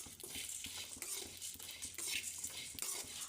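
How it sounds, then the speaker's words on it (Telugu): Dried curry leaves roasting in a pan for dhaniya powder, heard as a quiet, close dry rustle with light clinks and scrapes of a spoon as they are stirred. "ఒక 10 కరివేపాకు, ఎండిపోయిన కరివేపాకు రెమ్మలు వేయించుకొని దోరగా వేయించుకోవాలి."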